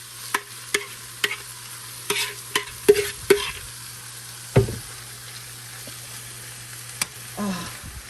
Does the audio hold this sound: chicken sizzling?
yes